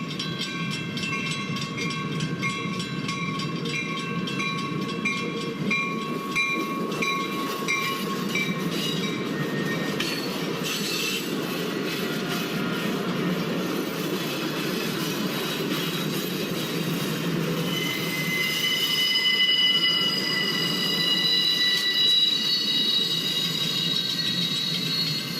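Metra Electric commuter train rolling along the rails in Chicago, a steady continuous rumble with a high tonal whine and faint squeal rising near the end, loud and close throughout.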